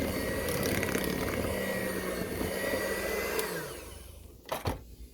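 An electric mixer whirs steadily through thick orange bar batter, a loud continuous drone that cuts off near the end and leaves a few knocks and clatters.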